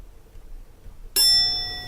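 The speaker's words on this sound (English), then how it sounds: "it's a service bell" A service bell played from a soundboard gives one bright, close ding that rings on and slowly fades after a quiet moment.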